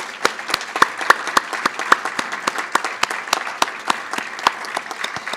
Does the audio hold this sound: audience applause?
yes